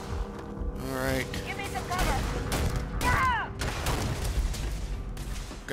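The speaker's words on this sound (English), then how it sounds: "That was a grenade." Combat in Starfield with a grenade blast among sharp bursts of weapon fire, loud booms and cracks spread across a few seconds, a voice speaking in between.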